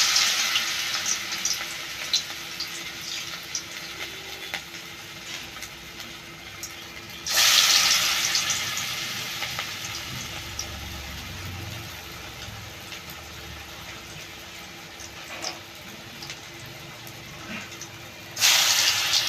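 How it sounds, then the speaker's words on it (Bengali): Potato fritters (aloo bora) fry in hot oil with a steady, soft hiss and sizzle, broken by two loud bursts of crackling that surge and then ease off. "এবার বড়াটা ভেজে নেব।"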